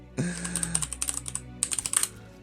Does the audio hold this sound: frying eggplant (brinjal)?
no